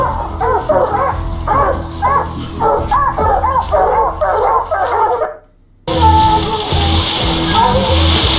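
Several dogs bark and yip repeatedly in rapid, overlapping bursts close by, with whimpering mixed in and people talking underneath, before a brief pause and then a noisier outdoor stretch.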